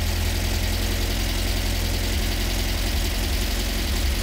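A 1957 Volkswagen Beetle oval-window air-cooled engine idles on a rich mixture, a steady, loud, close mechanical chug with a deep throbbing rumble that stays even throughout with no talking.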